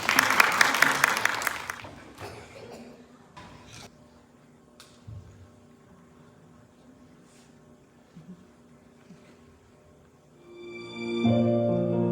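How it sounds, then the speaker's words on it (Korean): A church congregation at a Sunday service gives a short burst of applause to welcome a children's shadow play, loud at first and then fading into a quiet room, with a few faint sounds before music swells near the end. "박수로 환영했으면 좋겠습니다."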